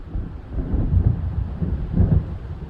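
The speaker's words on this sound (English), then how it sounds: "It seems there's a storm coming." Thunder from an approaching storm in Alan Wake, deep low rumbles swelling twice in slow waves, loud and dull with no voices.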